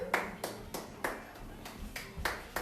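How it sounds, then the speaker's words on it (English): A few sharp hand claps, played as a game of Simon Says at home, sounding as separate bright smacks in an uneven rhythm, close and moderately loud with no talk over them. "clap your hands"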